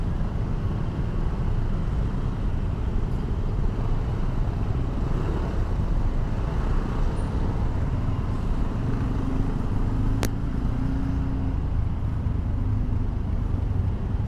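Road noise from a motorcycle rider stuck in a traffic jam, with a loud continuous low rumble of engines and wind, steady and close throughout.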